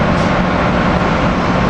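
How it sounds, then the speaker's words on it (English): An Amtrak Keystone passenger train, number 665, pulls into 30th Street station with a loud, steady, broadband rumble that holds without a break for the whole short stretch. "Here we got Amtrak Keystone Train 665 coming in."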